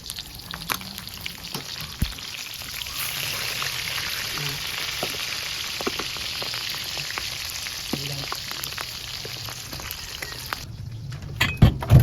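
Fish sizzles and spatters steadily in a pan of hot oil, close and fairly quiet, with faint stirring and clinks over the frying.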